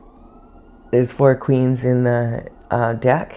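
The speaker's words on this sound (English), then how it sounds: "there's sirens out here and they're really loud" A siren from emergency vehicles passing outdoors, rising faintly in the background before a person starts talking and then staying largely masked beneath the speech.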